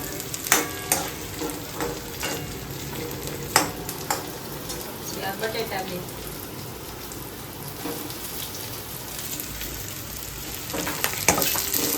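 A green chili frying in oil with softened onion for upma, giving a steady close sizzle with occasional spoon knocks and stirring scrapes.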